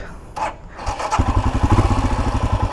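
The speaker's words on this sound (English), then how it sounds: "I'm gonna turn on the engine" A Royal Enfield Himalayan motorcycle engine cranks and starts, then settles into a loud, close, steady thumping idle.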